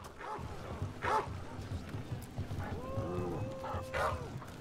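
Short dog barks and yips in the video game Dragon Age The Veilguard, a few separate calls over game ambience and footsteps, moderately close.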